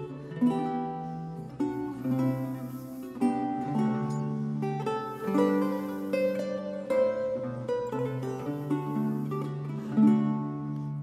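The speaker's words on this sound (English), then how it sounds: "If we take The Frog Galliard by John Dowland, which sounds like this." The Frog Galliard by John Dowland played on lute, a lively plucked melody with chords and a moving bass line, clear and continuous with no talk.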